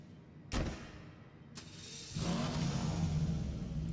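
Elegy Retro Custom (Skyline) car in the video game GTA 5, with a couple of sharp clicks before the engine catches and settles into a low, steady rev with a rougher rumble underneath.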